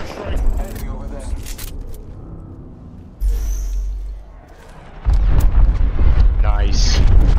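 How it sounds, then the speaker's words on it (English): Airstrike explosions in the Apex Legends battle royale game land as deep, heavy booms that swell and then hold as a sustained low rumble, heard under excited player chatter and game noise. "Calling the airstrike."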